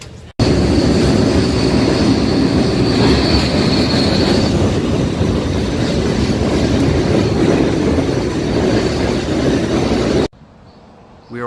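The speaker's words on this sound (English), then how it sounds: "Yes, we're on the trolley. It's a trolley." A New Orleans streetcar trolley rolls along its rails with a steady loud rumble and rattle of wheels and car body, heard from on board, cutting off abruptly near the end.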